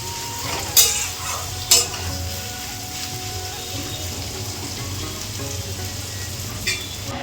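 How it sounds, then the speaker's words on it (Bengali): Onions frying in a pan for a village-style Bengali mutton curry, a steady close sizzle with a few sharp stirring scrapes near the start and end. "পেঁয়াজটা লাল লাল করে ভেজে নেব।"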